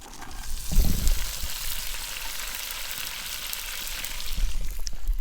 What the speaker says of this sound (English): So I think we're about ready to throw some onions on